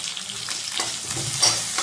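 Onions for chilli chicken Manchurian frying in a pan, a steady close sizzle with a light stirring rustle running throughout, no voices.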